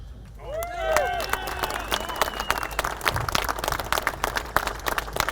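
Crowd applause and cheering at a Second Amendment gun-rights rally, dense continuous clapping with scattered whistles and shouts, loud and sustained throughout.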